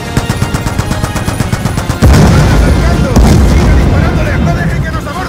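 Rapid machine gun fire from gunboats in Call of Duty: Black Ops II, a fast, loud rattling burst that gives way to heavy booming explosions and continuing gunfire in a dense battle mix.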